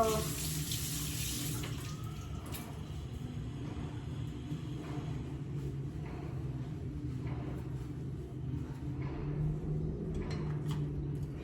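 A running kitchen tap streams steadily while hands are washed beneath it during cooking, a continuous close rush of water with no speech.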